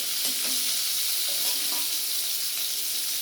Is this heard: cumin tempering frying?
yes